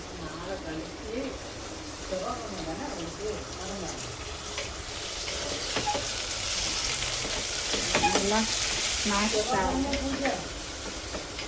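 Tomatoes fry in a pan for prawn biryani with a continuous close sizzle and hiss that grows slightly louder midway, heard under conversational voices talking throughout.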